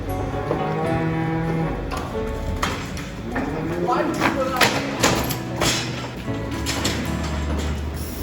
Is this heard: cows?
yes